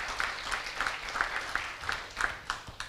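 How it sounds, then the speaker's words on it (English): Audience applause at a book launch event, a smaller crowd clapping with individual hand claps standing out in an uneven rhythm, moderately close and steady throughout. "Shall we give him a round of applause?"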